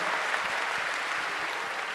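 A large crowd at the Maha Kumbh gathering claps steadily and densely for holy men, a continuous wash of applause that stays even and close throughout.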